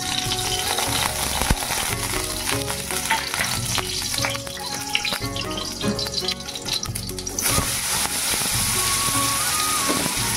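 Oil sizzles and crackles loudly in a kadai as potatoes fry, a dense steady hiss with stirring clatter and scrapes throughout, close and continuous with no talking.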